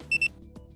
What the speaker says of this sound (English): until the KneeAlign unit beeps and automatically proceeds to the next screen